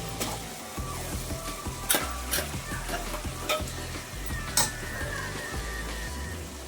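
Ground masala added to a pan for chicken pulao and stirred: a close, busy sizzle punctuated by rhythmic scraping strokes of the spoon against the pan, with a few sharper clacks.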